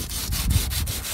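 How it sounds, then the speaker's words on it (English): Rhythmic rubbing of sandpaper roughing up the base of a canoe, close up, with about six steady back-and-forth strokes. "I've got a bit of sandpaper and I'm just going to rough out that area"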